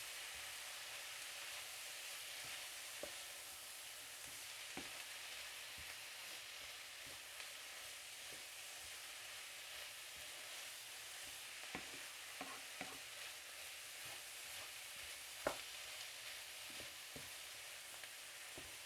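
Quiet, steady sizzling of beef steak and bell peppers with parsley frying in a pan, broken by scattered scrapes and clicks as a utensil stirs the mix.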